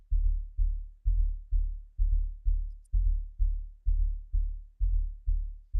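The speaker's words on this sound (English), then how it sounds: "That's that club ready type bass and kick style" Deep, booming club-style bass and kick drum thump in a steady, even pulse, each hit swelling and decaying before the next, with nothing else on top.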